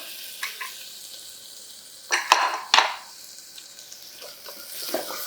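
Onions and vegetables for a weight-loss khichdi are stirred in a pan over the heat: a soft sizzle with a few sharp scrapes and clinks of a spoon against the pan, close by and without talk.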